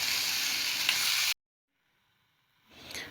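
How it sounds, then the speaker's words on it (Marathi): Pumpkin slices hit a pan of fried chili paste with a loud, steady sizzle that cuts off abruptly, followed by near silence and then a faint return of frying. "गंगाफळाचे कापून ठेवलेले आपण काप सगळे घालायचे आहेत आणि हे सगळे जिन्नस सोबत छान मिक्स करून घ्यायचे आहेत"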